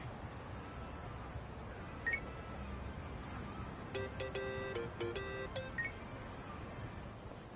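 A phone in Yakuza Like a Dragon being dialed, with a quick cluster of clear beeping key tones over a steady noisy ambient background.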